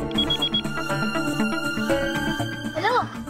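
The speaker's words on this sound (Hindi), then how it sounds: "आपका फोन बज रहा है" A telephone rings in a Hindi TV drama scene, its tone rising over background music and overlapping voices.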